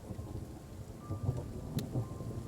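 Rain and thunder in Train Sim World 3: a low rolling rumble under constant rainfall, with a few soft swells and a brief sharp crackle partway through.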